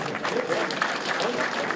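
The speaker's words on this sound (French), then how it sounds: "Un grand applaudissement pour eux." An audience at a community gathering in Bust, Alsace, gives warm sustained applause, a steady patter of many hands with a voice faintly underneath.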